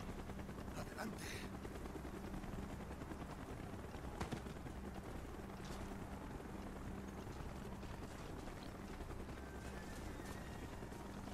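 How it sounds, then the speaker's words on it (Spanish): Helicopter rotor drone in a Call of Duty: Black Ops campaign level, a steady low beating held throughout with scattered gunfire bursts layered over it and a player talking over the game. "¡Helicóptero en camino!"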